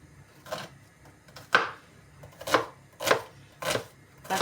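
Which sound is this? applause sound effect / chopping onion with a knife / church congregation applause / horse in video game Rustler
chopping onion with a knife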